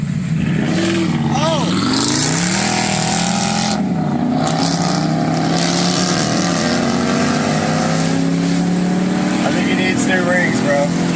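A car engine revving hard in a rev-off, loud sustained roaring with rising and falling pitch sweeps, plus a brief shout.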